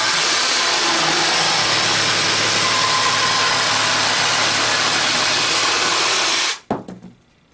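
A Craftsman 20V cordless jigsaw saws straight across 1/2 inch plywood with a loud, close, continuous buzzing rasp that holds steady for over six seconds, then stops abruptly with a few clattering knocks.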